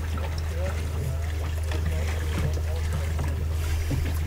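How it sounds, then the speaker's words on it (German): Canoes glide past on a lake in Mecklenburg with soft, steady paddle splashes and light trickling, under a constant low rumble of wind and background noise. "da hinten kommen noch 2 Nachzügler von den Kanuten"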